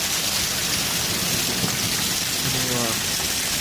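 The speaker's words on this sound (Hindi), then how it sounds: "बहुत तेज बारिश है।" Heavy rain pours steadily in Miani Syedan, a dense, loud, continuous hiss of drops on surfaces with a low rumble underneath, and a voice speaks briefly near the end.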